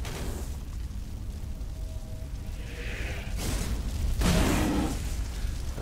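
Fire creatures self-destruct in Legend of Grimrock 2, giving dull booming bursts over a low rumbling background, with two broad blasts late in the moment.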